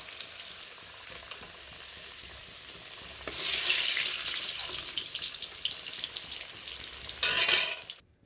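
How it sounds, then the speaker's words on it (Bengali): New potatoes frying in hot oil in a pan, a soft hiss at first that swells into a louder, fuller sizzle midway and peaks briefly near the end. "আলুটা ততক্ষণ ভাজা হোক"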